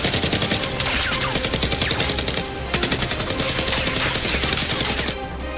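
Rapid bursts of toy gunfire from Nerf blasters in a staged fight, loud and close, a dense continuous rattle of repeated shots with no pauses.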